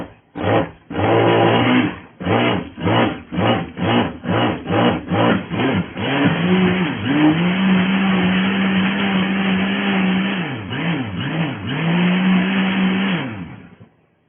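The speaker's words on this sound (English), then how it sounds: "There's 25 in the blender." A kitchen blender whirs through 25 eggs, starting in a series of short rhythmic pulses before settling into one long steady run, then a few more bursts near the end; loud and close, with no talk.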